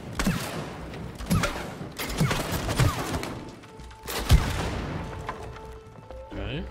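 Repeated gunshots fired at a shooting range in the co-op game It Takes Two, sounding as several spaced, punchy blasts with short echoes, followed by quieter mechanical clicks and tones.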